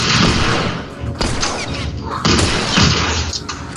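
Loud, heavy gunfire from the video game The Last of Us Remastered, with several booming shots in quick succession that fill the whole moment at close range.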